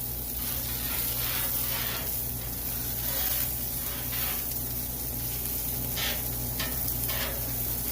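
Small pieces of pork belly sizzle steadily in grease on a new Blackstone griddle, a dense continuous frying hiss with occasional louder spits and pops, close and alone with no talk.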